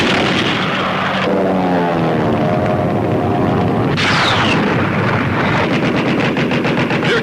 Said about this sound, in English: gunners keep up their withering barrage of anti-aircraft fire